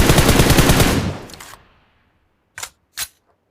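A dense burst of automatic weapon fire in the mobile shooter PUBG Mobile rattles for about a second and fades, followed by two short, sharp clicks spaced apart.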